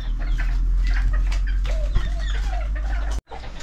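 Chickens clucking close by in a farmyard, a string of soft chirpy calls over a steady low rumble of background noise, cut off abruptly near the end.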